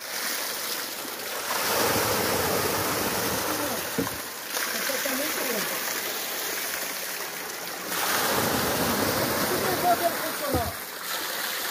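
Water pouring and splashing into the trough of an old wooden monjolo mill, a steady broadband rush with wind noise over it, swelling around two and eight seconds; no clear talk.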